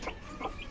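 Tiger breed chicken chicks cluck softly while eating feed, with two or three short close calls over a brief moment.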